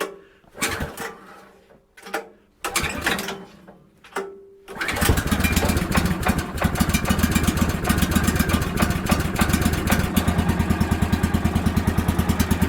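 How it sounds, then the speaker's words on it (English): Old Kohler engine on a sawmill being pull-started in cold winter weather: several rope pulls with short bursts, then it catches and runs loud and steady with a rapid, even chugging idle. "Let's see if this old Kohler will fire up in this cold temperature."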